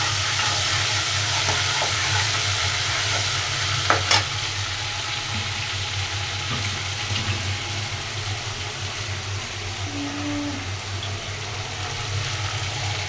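Ginger garlic paste fries in a hot pan, a loud steady sizzle close up, with a couple of sharp clinks from stirring near the middle.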